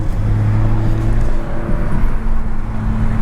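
A Mercedes-AMG CLS 63 passes on a road with a deep, steady engine drone and tonal hum, heard fairly close and loud against road noise, with no talking.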